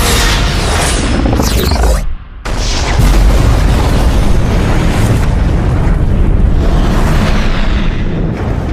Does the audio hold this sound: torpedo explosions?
yes